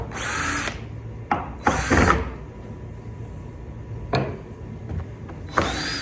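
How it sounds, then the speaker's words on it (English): A power hand planer smoothing a reclaimed lumber workbench top, several loud whirring bursts of roughly half a second to a second each, separated by short pauses and quieter handling noise, close and without speech. "We're just going to run a hand planer, clean it up."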